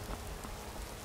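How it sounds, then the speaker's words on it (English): Steady rain in the video game Skyrim patters on a hard surface, a dense continuous hiss of drops with no voices. "This must be that beautiful Skyrim weather. Yeah, where's Ysolda at? It's raining."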